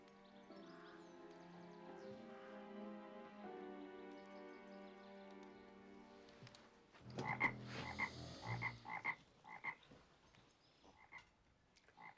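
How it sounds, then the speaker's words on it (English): A toad croaks in an indoor setting, a burst of several close, rough croaks in irregular rhythm, preceded by a steady tonal background, with no talking heard. "The toad."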